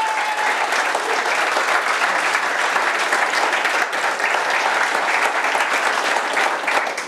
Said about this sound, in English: So a big round of applause for the guys at the back!